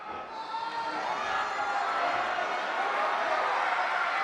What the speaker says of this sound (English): Listen to this crowd firmly behind Davey Boy Smith Jr.